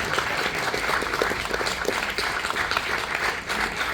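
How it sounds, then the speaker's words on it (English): Sustained audience clapping at a West End staging of Next to Normal, a thick, continuous wash of many hands that fills the space evenly for several seconds. "Everybody clap."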